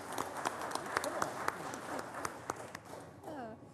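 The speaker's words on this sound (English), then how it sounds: "You all can applaud now." An audience at a county commissioners court meeting claps in a dense, steady patter of overlapping hand claps that stays moderately loud. A voice starts speaking near the end.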